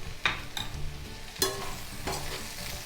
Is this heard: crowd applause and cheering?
no